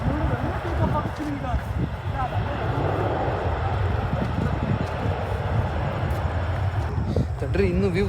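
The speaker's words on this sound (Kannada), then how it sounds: "ಆ ಏರೋಪ್ಲೇನ್ ಸೌಂಡ್ ನೋಡ್ರಿ ಹೆಂಗಿದೆ" An airplane near Kempegowda International Airport gives a steady, broad engine roar that fills the whole stretch, with a person speaking over it near the end.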